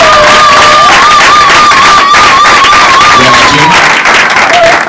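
A crowd of churchgoers applauding and cheering at an evangelistic gathering, loud continuous clapping with voices and a melodic instrument line running through it.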